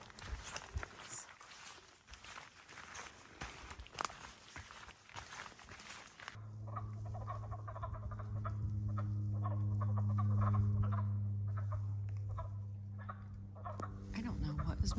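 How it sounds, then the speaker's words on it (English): Frogs croak in a steady, droning chorus along the Appalachian Trail near the Georgia–North Carolina line. Footsteps and rustling come first, and people talk quietly over the calls. "Must be frogs."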